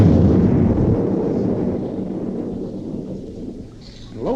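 Into a Shure microphone, a voices an explosion imitation: a close, breathy, rumbling burst that slowly decays over a few seconds, then ends in a faint rise.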